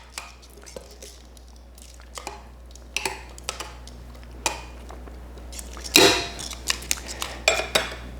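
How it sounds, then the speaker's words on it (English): Chicken pieces tossed in a maple Dijon sauce, producing wet squishing and scattered clinks of a utensil against a dish, irregular and close, with brief talking at times. "just toss them a few times to coat them with all of that maple Dijon goodness"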